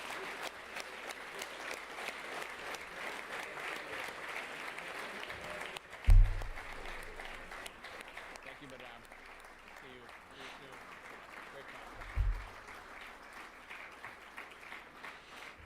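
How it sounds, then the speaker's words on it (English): Audience clapping after a panel discussion, a soft, distant patter of applause running steadily beneath a nearer voice, with a couple of low thumps along the way. "They're clapping right now."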